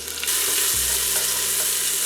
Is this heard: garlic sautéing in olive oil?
yes